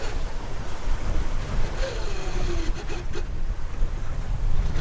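A sailboat's engine chugs along at about 4 knots on a calm sea with the wind died down, a steady low drone heard under wash of water and light wind noise throughout.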